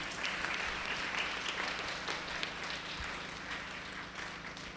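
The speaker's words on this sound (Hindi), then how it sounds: "आइए हम तालियों से फादर जी को धन्यवाद दें।" A church congregation at a St. Anthony's Feast Day Holy Mass claps steadily and evenly throughout, dense applause filling the hall with a low background hum beneath it.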